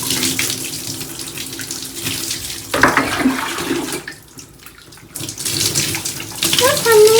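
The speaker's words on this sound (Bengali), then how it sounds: "আমি এখন আমার মায়ের স্নান করিয়ে দিচ্ছি" Warm water, cold and hot mixed, poured over an elderly mother being bathed while she has a fever: steady loud running and splashing close by, with a short lull midway and a voice starting at the end.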